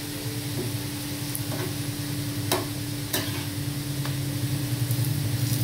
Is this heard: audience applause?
no